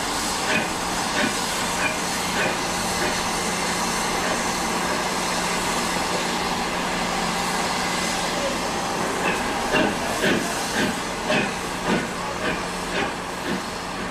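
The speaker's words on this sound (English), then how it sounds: "The locomotive still has a good 100 metres to go before it reaches the right spot." The Green Arrow steam locomotive hisses steadily on the line, a constant loud rush of steam with a rhythmic chuffing pulse growing toward the end, under narration.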